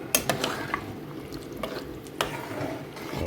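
Cabbage being stirred into coconut pumpkin rice in a pot, with soft scraping and clacking spoon strokes against the pot over a low sizzle, a few sharper knocks standing out.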